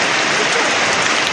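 Light rain falls over suburban Chennai, a dense, even hiss of drops that is steady and fairly loud throughout, with no talk or other sounds over it.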